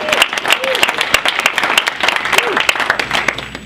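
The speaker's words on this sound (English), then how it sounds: "I'd like to give just a round of applause to Peter Gracey of QuotaFactory." Audience applause for a guest at a sales-culture talk, a dense wash of clapping hands that holds steady throughout, with occasional faint voices mixed in.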